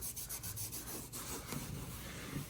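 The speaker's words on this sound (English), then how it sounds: "I'm gonna take a wet rag and just wet sand it" Wet rag rubbing in circular strokes over a fresh Strait-Flex Perma-Patch on sheetrock, wet sanding the plaster; a steady, close scrubbing swish with soft rhythmic pulses and no talking.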